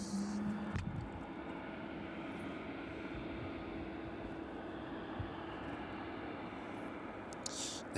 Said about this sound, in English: catch that Aerologic as it pushes back and makes its way down to runway 27